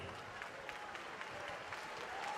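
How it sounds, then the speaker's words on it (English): A boxing crowd applauding both fighters after a ten-round championship bout, dense clapping that holds at an even level and swells slightly toward the end. "let's have a big round of applause for both of the fighters in this ring"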